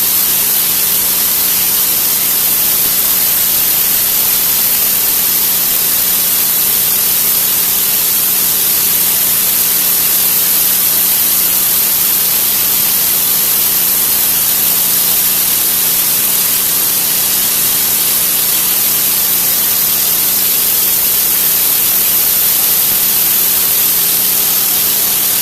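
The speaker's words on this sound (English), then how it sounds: "A lot of force on that pressure washer." A pressure washer spraying a concrete driveway that has gone about three years without cleaning, a loud, steady, unbroken rushing hiss of high-force water that holds at a constant level throughout.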